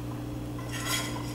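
A spatula spreads apple sauce over sliced apples for a tarte tatin, making soft, close scraping and smearing against the dish, with a slightly louder stroke near the end over a low steady hum.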